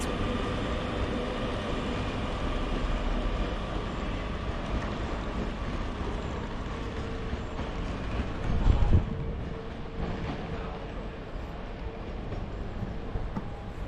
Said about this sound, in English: In comes the delayed 10:54 Northern Search to Manchester Airport